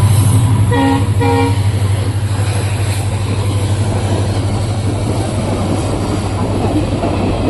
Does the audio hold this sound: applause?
no